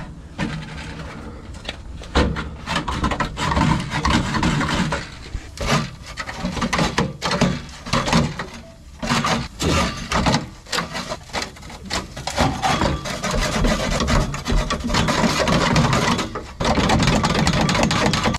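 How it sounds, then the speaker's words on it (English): Metal scraping and clanking as a tool pries at a rusted bolt on a car's exhaust heat shield, with loud, uneven bursts of grinding and knocking that continue almost without pause. "I'm hoping I could pry it off with this bad boy"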